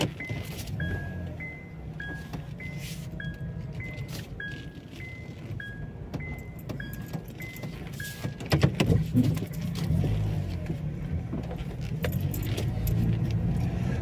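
A car drives around the streets of Houghton Regis in the UK, its road and engine noise steady throughout, with a repeating two-tone electronic chime and some clinking early on.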